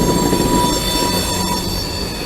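Train wheels squeal on a Macon railway trestle, a sustained piercing metallic shriek with several steady high tones over rumbling rolling noise, loud and close, with no voices.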